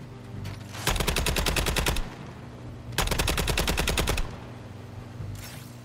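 Rapid automatic gunfire in Suicide Squad: Kill the Justice League, two loud sustained bursts of about a second each separated by a short pause, with game ambience underneath and a faint shot at the end.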